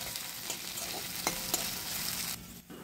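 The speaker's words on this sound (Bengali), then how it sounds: "এবার এই মশলাটাকে ভালো করে তেলের মধ্যে নেড়েচেড়ে নেব।" Black cumin seeds and ginger-chilli paste stirred in hot oil for a pomfret curry, giving a steady close sizzle broken by a few sharp spoon scrapes, then easing off near the end; no one speaks.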